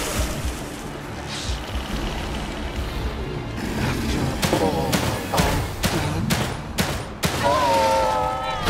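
Gunfire in the survival game The Long Dark, heard as a run of sharp, loud shots spaced irregularly across the second half over a noisy game background with some voice.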